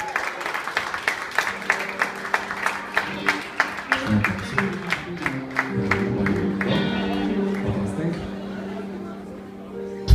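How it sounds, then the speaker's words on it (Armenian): Audience applause for a singer at a live band concert, a crowd clapping in a dense, rhythmic burst that swells and then fades over several seconds, with a presenter's voice over it. "ձեր ծափահարությունները"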